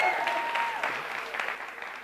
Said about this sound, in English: I can't believe you still got clapping in you